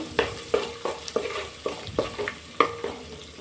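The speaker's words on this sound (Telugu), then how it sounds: "ఒకసారి ఆయిల్లో అంతా కలిసేలాగా కలుపుకొని పచ్చివాసన పోయేంత వరకు ఆయిల్లో ఫ్రై చేసుకోవాలి" Repeated scraping strokes of a utensil stirring spices frying in oil in a hot pan, about eight regular scrapes over a soft background sizzle, close by.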